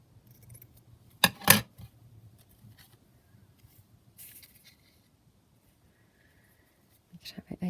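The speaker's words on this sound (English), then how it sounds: "So I'll just cut down a little piece here." Scissors snip a small piece of craft netting, a couple of sharp close cuts near the start followed by quiet rustling and faint handling, with another crisp snip at the end.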